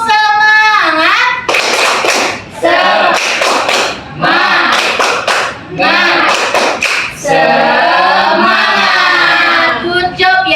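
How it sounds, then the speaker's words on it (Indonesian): A class of children performs a 'tepuk semangat' spirit clap, chanting loudly together and punctuating the chant with sharp, rhythmic bursts of clapping in a lively back-and-forth pattern. "Kalau bisa kita tepuk semangat satu kali dengan meriah supaya Ibu bisa tahu apakah kalian benar-benar siap atau tidak."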